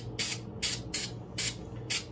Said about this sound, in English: So we'll just spray the Dispatch on this paint pen.